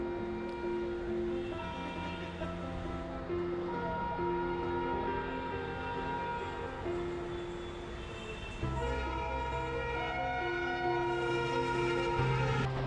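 Steady rumbling of a Ghatkopar to Karjat local train with a sustained tonal hum and rattling, continuous throughout and fairly distant, with no talking.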